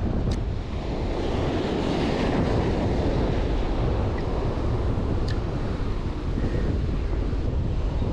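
Ocean surf washing onto a beach shoreline during shore fishing, a continuous loud roar of breaking waves mixed with heavy wind buffeting the microphone, no voices.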